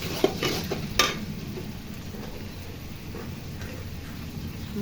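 Spice paste with ground ginger and garlic stir-fried in a pan for tehari, a steady soft sizzle with a couple of sharp scrapes of the spoon near the start, no talking.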